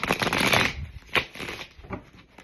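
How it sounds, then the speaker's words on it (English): Crisp riffling of tarot cards being shuffled, a dense burst of rapid flutters followed by a few lighter snaps and taps, close by. "One more shuffle, please and thank you."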